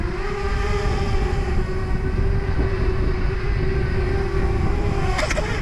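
FPV freestyle drone fitted with toroidal propellers, its steady loud motor whine humming continuously throughout, with a brief rattle near the end.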